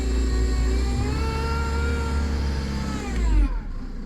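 Car engine with a failing power steering pump revving steadily, a loud continuous drone with a rising whine layered on top, swelling briefly before cutting off near the end.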